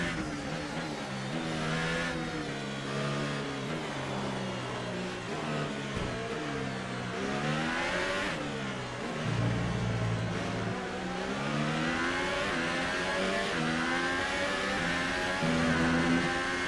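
Steady whine of an F1 race car engine in the video game F1 2018 during a race in China, revving up and down through gear changes, continuous and fairly loud with no talking.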